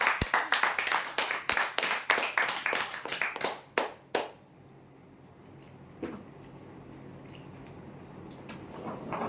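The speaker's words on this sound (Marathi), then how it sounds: "जोरदार टाळ्या" A small crowd at a weekly prize draw claps for a winner, a quick burst of close, sharp handclaps lasting about four seconds before fading into quiet room tone with one later knock.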